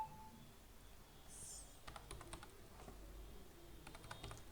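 An OTP is typed on a computer keyboard in short runs of quiet, close keystrokes over a low room hum. Nobody talks.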